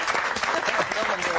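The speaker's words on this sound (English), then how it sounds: "let's give him a huge round of applause" A studio audience on BBC's The One Show gives a short burst of fairly quiet applause, with voices audible under the clapping.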